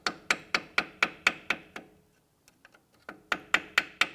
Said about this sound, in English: we're going to use a screwdriver here. You want to be gentle and just gently tap around, see if we can loosen this